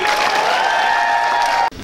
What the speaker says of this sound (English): I'm going to ask you for a roaring Armenian round of applause for the executive producers of Architects of Denial, Dean Cain and Montel Williams.